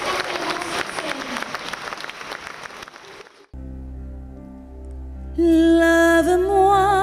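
An audience applauds and cheers for the singer, a dense wash of clapping that lasts about three seconds and then cuts off abruptly. Sustained music and a tone follow.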